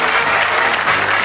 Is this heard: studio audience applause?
yes